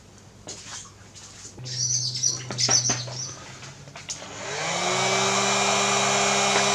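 A heat gun shrinks heat-shrink tubing over joined wires, and its steady, close blowing hum rises in the last couple of seconds after some handling clicks and rustling.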